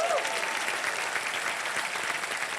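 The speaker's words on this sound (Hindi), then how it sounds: "बहुत जोरदार तालियां उनके लिए" Steady applause from a studio audience on a Hindi game show, thanking the house band, dense and continuous throughout with a faint voice near the start.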